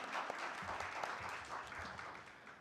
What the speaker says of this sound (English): Can we have a huge round of applause for all our sponsors?